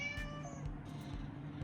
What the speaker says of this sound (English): Have to wait until the cats get done.